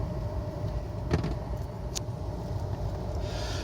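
A car drives past on a snowy road at night, a low steady rumble of engine and tires with a brief swell near the middle, heard close and fairly loud with no talk.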